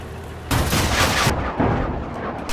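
Autocannon fire from an armored vehicle in the tank game Armored Warfare, a burst of loud rapid shots with booming impacts that fades into rumbling tail, heard alone without talk.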